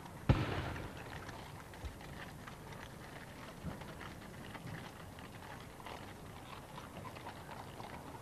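Guns of the King's Troop, Royal Horse Artillery fire a 41-gun salute in Green Park, London, at Trooping the Colour. One sharp boom cracks out at the start, then only faint outdoor ambience follows.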